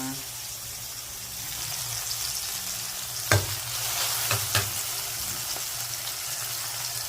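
Bitter gourd (ampalaya) and tomatoes frying in a pan, a steady soft sizzle with a few stirring knocks and scrapes, faint voices in the background.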